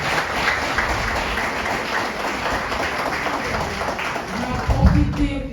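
Audience applause for about 60 young people receiving certificates, a dense, continuous wash of clapping from a crowd, loud and sustained, with a louder burst near the end.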